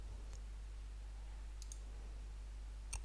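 Faint computer mouse clicks, a few sharp ticks spaced apart over a steady low hum, with no talking.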